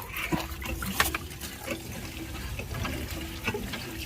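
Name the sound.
water running from a tap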